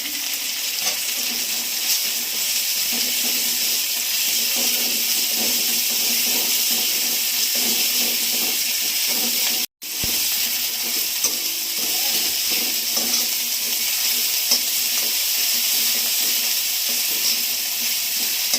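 Ginger-garlic paste sizzles in a pan with chopped onion while making beetroot fritters, a loud steady hiss and crackle with light stirring, briefly cut off midway before resuming.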